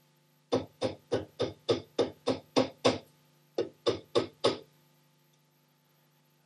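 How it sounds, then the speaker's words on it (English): A small pin hammer gently taps a saw blade held in a vise, giving nine evenly spaced light clinks, a brief pause, then four more taps before silence. "take the hammer, pin hammer, place the blade, the other half of the blade, onto the vise, and just gently tap the set out"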